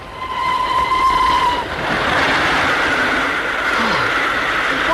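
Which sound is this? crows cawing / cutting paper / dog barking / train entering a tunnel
train entering a tunnel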